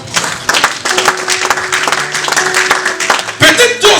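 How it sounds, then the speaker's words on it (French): A church congregation applauding during a Sunday worship service, steady loud clapping from a crowd lasting several seconds with a voice speaking over it. "On peut acclamer le Seigneur."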